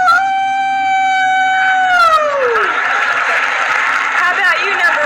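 A man imitates a howl as a contestant on a 1979 dating game show: one long, wavering vocal wail that bends downward. A loud studio audience then bursts into cheering and applause.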